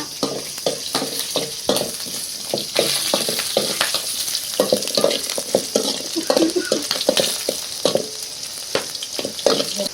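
Onions fry in hot oil in a pan, a close, bright sizzle broken by frequent sharp clinks and scrapes of stirring, steady throughout with no talk.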